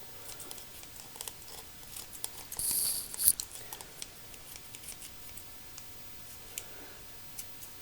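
Scissors snipping through frozen fish food cubes, a quiet series of irregular crisp clicks and crunchy cuts, close by with a soft background hiss and no talking.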